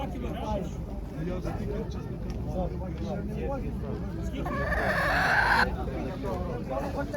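Chickens cluck and chatter in a busy outdoor market while people talk nearby and a brief vehicle or engine noise rises near the end.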